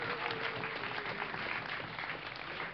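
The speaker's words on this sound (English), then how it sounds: "Give a cheer for both of them at the same time." A crowd at a DreamHack 2010 StarCraft II match applauds and cheers for the players, a steady wash of clapping heard from within the audience.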